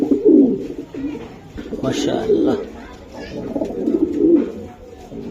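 Racing pigeons coo repeatedly in low, throaty bursts close by, rising and falling in waves while someone speaks briefly over them.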